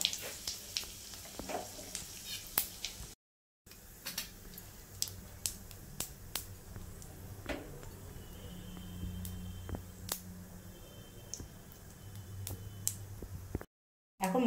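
Whole spices such as cloves and a bay leaf broken in two, with white cumin, fry in hot oil for a taro leaf dish, a quiet steady sizzle dotted with sharp crackles and pops.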